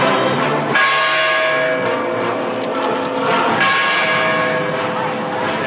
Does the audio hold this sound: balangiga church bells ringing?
yes